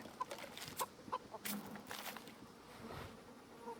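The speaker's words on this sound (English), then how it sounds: "And let's look for chickens." Chickens cluck softly in the medieval village of Kingdom Come: Deliverance, a few scattered clucks and short calls over a quiet, buzzing farmyard ambience with insects.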